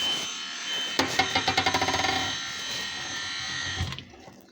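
The motor of a newly unboxed Sonic dishwasher buzzes steadily at close range, with a quick series of rhythmic clicks early on, before it cuts off near the end.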